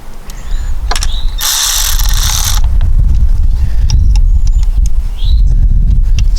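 Ratchet wrench working a nut loose on a VW Golf Alltrack, close and loud, with a burst of rapid clicking followed by scattered ratchet clicks and metallic squeaks over a low rumble.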